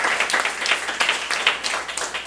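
A church congregation at a Saturday worship service claps together in a brisk, rhythmic burst, a dense patter of hands filling the room for a couple of seconds.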